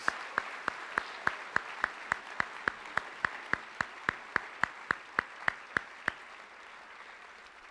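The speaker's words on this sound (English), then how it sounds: "let's have a round of applause" Evenly timed, sharp claps, about twenty-two in steady rhythm, recognize Presidential Excellence Award winners at a high school honors convocation. Each clap rings clearly over a quiet hall, with no talking.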